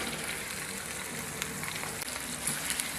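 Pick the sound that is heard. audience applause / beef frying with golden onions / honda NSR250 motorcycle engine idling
beef frying with golden onions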